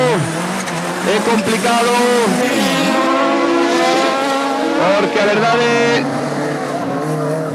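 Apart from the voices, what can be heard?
autocross race car driving on track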